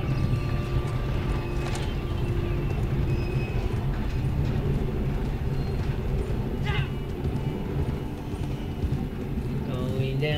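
Kentucky Saddler horses in the Red Dead Online video game clip-clop steadily for the whole stretch, their hoofbeats layered over a dense, busy background with voices.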